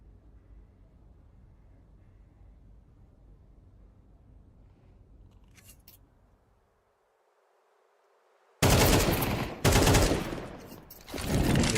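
AK rifle fire from a competitive tactical shooter match erupts in loud, sharp bursts after a quiet stretch of faint ambience and a brief lull, with two dense volleys close together near the end.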